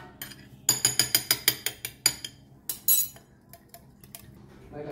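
Dahi vada batter whisked with added water in a bowl, giving a run of quick clinking utensil taps against the container, then scattered lighter knocks; no talking.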